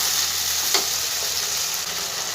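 Eggplant kofta frying in a pan makes a loud, even sizzle that hisses steadily throughout, with one brief crackle near the start and no talking.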